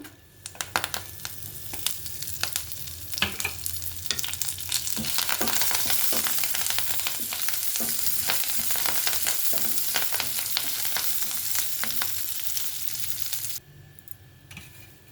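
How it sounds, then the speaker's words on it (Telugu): Curry leaves hit hot oil in a pan while cooking ivy gourd fry, bursting into a loud dense sizzle with crackling pops, close and steady for several seconds before the sound suddenly drops away near the end. "ఇప్పుడు ఇందులో కరివేపాకు వేస్తున్నాను."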